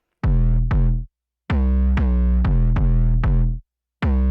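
Main bass layer of a mid-tempo, hard-hitting hip-hop style boy-group track, loud sustained tonal bass notes in a rhythmic pattern with short gaps between phrases, dry and unprocessed.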